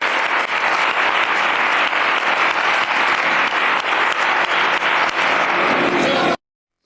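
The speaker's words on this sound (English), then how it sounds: "Marlaska, everyone applause" Crowd applauding loudly at a Spanish political event, a dense, steady wash of clapping that runs unbroken for about six seconds and then cuts off abruptly.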